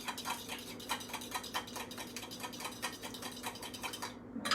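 Kale, cabbage and raisins are tossed and stirred in a bowl, giving a steady run of soft scraping and clinking strokes at close range, with no talk.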